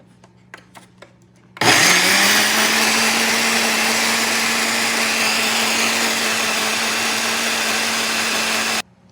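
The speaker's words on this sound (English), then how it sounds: "Cover it. And do some more pulsing." A blender whirs loudly and steadily for about seven seconds while pulsing a green mojo verde dip, starting abruptly after a few quiet clicks and cutting off sharply at the end, with no talk over it.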